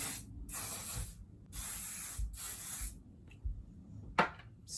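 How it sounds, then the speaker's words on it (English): Flexible hairspray hisses from an aerosol can onto hair in several short bursts, each a second or so long, close up with quiet pauses between. "flexible hairspray, and I'm going to lift up around my face, give it a little extra volume"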